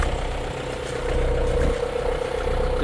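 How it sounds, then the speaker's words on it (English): A farm tractor engine idles steadily at close range, a low continuous rumble and clatter with slight swells, no voices. "I got my other tractor ready to go"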